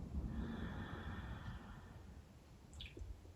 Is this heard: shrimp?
no